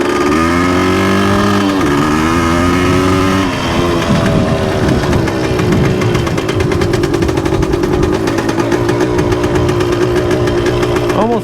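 A 1978 Yamaha DT400E motorcycle engine runs unevenly nearby, loud and rough, surging up and down in pitch before settling into a rapid, choppy, pulsing idle.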